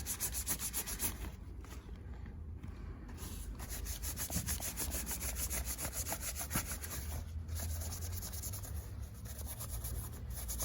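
Steady, rapid scrubbing with a Tub O' Towels wipe rubs against a surface, a dry, rasping back-and-forth that runs continuously at close range with no talking.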